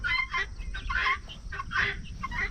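Farm chickens kept in a horse-drawn chicken tractor cluck and murmur in a steady stream of overlapping calls, close by and moderately loud, with low outdoor rumble underneath.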